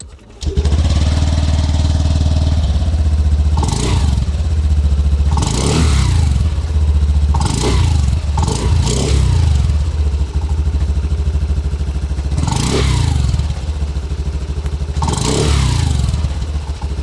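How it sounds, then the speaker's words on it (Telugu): A Honda Activa 110 H-Smart top-variant scooter with OBD2B compliance and silent-start idles steadily, its engine and exhaust revved in about five sharp bursts that rise and fall over a low continuous hum, close and loud with no talking. "అలాగే దీని ఎగ్జాస్ట్ నోట్ ఎలా ఉంటుందని ఒకసారి చూద్దాం మనం"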